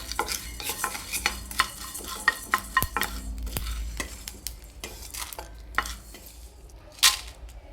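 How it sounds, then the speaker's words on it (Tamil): Coriander seeds and dried red chilies dry roasting in a pan for a traditional Tamil mixed-vegetable podi curry, with steady close scraping and stirring, scattered light crackles and sharp clinks of the utensil against the pan. "நம்ம எடுத்து வச்சுருக்க காஞ்ச மிளகாயை போட்டு நம்ம லேசாக வறுத்துக்கிறோம்"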